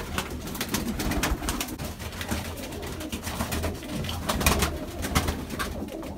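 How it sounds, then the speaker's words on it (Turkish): Mardin pigeons cooing inside their coop, soft overlapping low coos and throaty murmurs from several birds close by, continuous and steady with no one talking. "Buradaki kuşlar arkadaşlar Hüseyin abinin kendi soyları."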